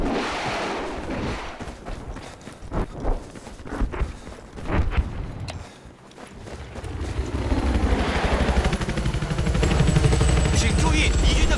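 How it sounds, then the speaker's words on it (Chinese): An enemy helicopter in Battlefield 4 gameplay, a rising rotor drone that grows loud and steady in the second half, preceded by scattered gunshots, footsteps and a brief voice. "发现了敌军直升机， 是的，我发现了敌军直升机"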